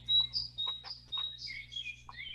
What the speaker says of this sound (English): Can you hear the birds singing in the trees?